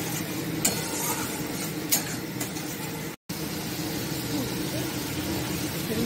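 Spice paste with salt, turmeric and a little sugar is sautéed in a pan for potol paneer dorma, giving a steady close sizzle with a few faint clinks of a utensil.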